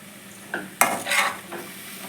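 Tomato tipped into a frying pan with ginger rice and long beans sets off a sharp sizzle burst, then scraping stirring strokes follow, close and unaccompanied by speech.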